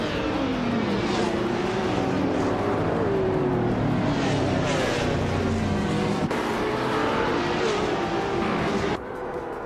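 Race cars in a racing video game launch into the start of a race at Mid-Ohio, a dense, loud, continuous roar of many engines revving and surging together without a break.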